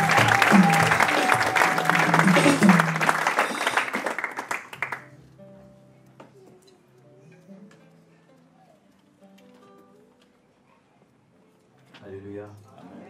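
A church congregation applauds and cheers as a pastor enters, a loud sustained wash of clapping that cuts off after about five seconds, followed by quiet scattered sounds and a voice near the end.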